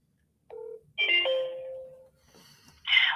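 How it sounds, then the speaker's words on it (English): A telephone ringing tone heard while calling an aeronautics company in Fort Worth, a few short electronic ring bursts with gaps between them, clear and fairly quiet. "We got to phone these guys right now."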